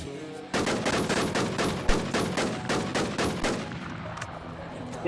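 Rapid bursts of automatic gunfire from a fantasy-style online game, a steady run of about a dozen sharp shots for several seconds, fairly loud, then trailing off into quieter scattered game noise.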